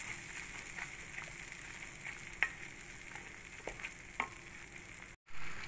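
Cream and paneer masala sizzle steadily in a pan over medium heat, a soft continuous frying hiss with a few faint ticks and scrapes, then a brief cut near the end.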